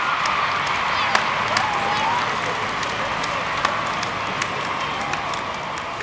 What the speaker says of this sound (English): Tens of thousands cheer and wave in front of Buckingham Palace.